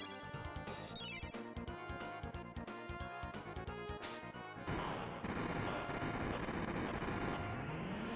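Mega Bomb attack in Chrono Trigger: a string of chiptune-style crashes and bursts gives way partway through to a dense, sustained wash of explosion noise that swells toward the end.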